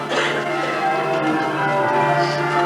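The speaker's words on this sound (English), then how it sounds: "The bells of England, silenced for 6 years, peal loud." Church bells of an English village ring out loudly and continuously, a dense layered peal with sustained ringing tones and no voices.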